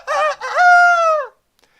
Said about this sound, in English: Is it 1, a rooster crows?